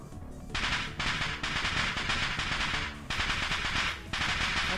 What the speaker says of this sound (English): Sounds like fireworks.